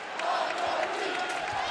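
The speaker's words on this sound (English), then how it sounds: "And the crowd coming alive here." A college basketball crowd at a Saint Mary's versus Gonzaga game roars and cheers in a steady, dense wall of noise, with whoops rising out of the arena din.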